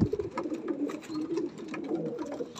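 Pigeons cooing in a loft of racing pigeons, soft repeated low coos running steadily through the whole stretch, fairly close, with no talking.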